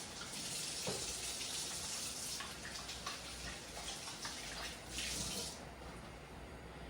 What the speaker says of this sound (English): I'm actually gonna wash my hands.